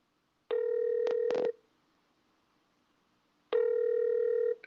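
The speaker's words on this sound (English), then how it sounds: "She's not answering the phone." Unanswered phone call from Seoul, South Korea, with two steady ringback tones about three seconds apart, a brief keypad beep between them, clear and close with no talking.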